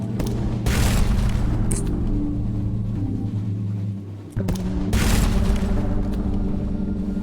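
A ship's guns in Sunless Sea firing at an eel: loud booming blasts roll out over a deep continuous engine rumble, a burst near the start and another after a brief lull.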